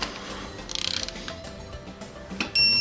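A ratchet wrench loosening a bolt on a Subaru engine during a rebuild, giving a quick burst of rapid clicks, followed by a few scattered metallic clinks at close range.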